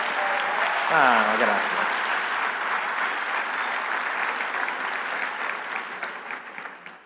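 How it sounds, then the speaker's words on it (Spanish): A conference audience at an international medicine event breaks into sustained applause for a doctor, broad and even clapping that slowly tapers toward the end, with a brief spoken thanks near the start. "Damos un aplauso al doctor Sánchez."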